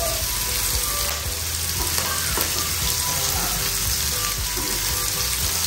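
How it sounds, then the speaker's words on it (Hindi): Paneer frying in hot oil, a steady, dense sizzle and crackle that runs unbroken throughout, close and fairly loud with no talk over it. "तो पनीर हमारा जो है वो अच्छे से फ्राई हो गया है"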